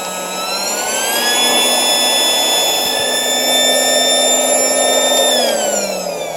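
An AIRBANK D2 rechargeable electric air pump deflates a swim ring with a steady, loud whining motor hum, its pitch rising slightly early on and dropping near the end, close by with no talk.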